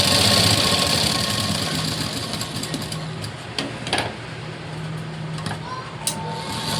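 A sewing machine double-stitching a blouse runs with a steady, close mechanical whir, broken by a few sharp clicks and knocks toward the end.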